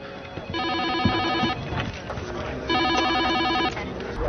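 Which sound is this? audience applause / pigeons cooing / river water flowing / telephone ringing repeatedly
telephone ringing repeatedly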